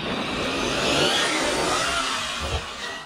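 An Arrma Mojave RC car drives and jumps on a dirt bike track, giving a loud, steady, close motor roar that holds for the whole stretch with a slight swell in the middle.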